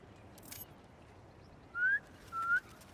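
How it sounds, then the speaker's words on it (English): A person gives two short, clear rising whistles in quick succession to call pigeons in the video game Spider-Man 2, over a quiet background hiss. "Try a whistle."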